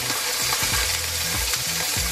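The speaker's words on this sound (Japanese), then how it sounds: "弱火でね、ゆっくり皮目を焼いていきます" A fish fillet sizzles skin-side down in hot olive oil over low heat, a continuous close crackling fry with faint scraping of a utensil pressing it flat.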